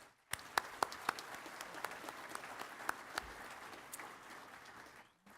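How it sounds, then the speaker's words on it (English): Applause at a community college commencement ceremony for career and technical programs, scattered crisp hand claps over a soft crowd wash, moderately distant and fading out at the end. "Let's give them a round of applause, please."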